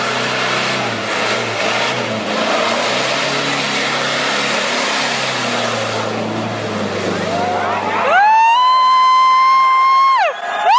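A crowd roars and cheers at a 4x4 off-road mud hole, a loud, continuous wash of noise, before a vehicle engine revs sharply and holds a high, rising whine near the end.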